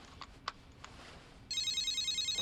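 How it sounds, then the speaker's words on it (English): A cell phone rings in the Death Note anime, with a few faint clicks first and then a steady electronic ringtone that starts abruptly and keeps trilling, close and clear, with no voices over it. "Mr. Matsuda, it's okay for you to turn on your cell phone now."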